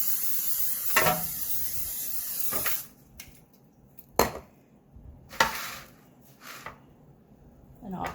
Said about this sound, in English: So I'll spray it with cooking spray.